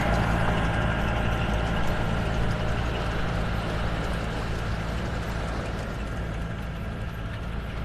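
A John Deere machine rakes the sand on Vanderbilt Beach in North Naples, Florida, giving off a steady engine drone with rattling and clattering throughout, no voices.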